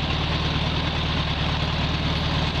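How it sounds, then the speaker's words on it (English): A 1970 Volkswagen Beetle engine idles at close range with an even, low, air-cooled burble, steady and unbroken across the short stretch, no voices over it. "And there's the engine running. Sounds like a VW."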